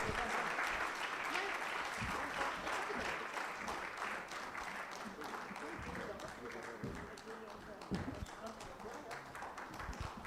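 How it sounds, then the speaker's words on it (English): An audience claps in sustained applause for cricketer Gautam Gambhir at a live Trailblazers panel event, a dense, steady patter of hands that stays even throughout, with a faint voice in the mix. "Ladies and gentlemen, a round of applause for GAUTAM GAMBHIR."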